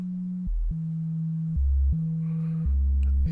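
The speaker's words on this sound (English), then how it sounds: "So this is our sine wave." A synthesizer sine wave tone run through overdrive with the gain raised, a steady low pure tone that steps between a few pitches in short sustained blocks, loud and alone.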